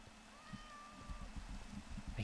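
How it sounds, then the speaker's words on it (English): A cat meows in a Minecraft horror map game, one drawn-out call that rises and holds, faint and somewhat distant over a low rumbling ambient background. "I hear the cat."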